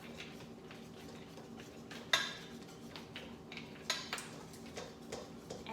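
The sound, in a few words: stirring vanilla into batter in a bowl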